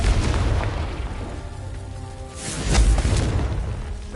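Confringo spell explosions in Hogwarts Legacy, the video game: deep, booming blasts with broadband bursts, one near the start and a louder one around the middle, alone with no talk.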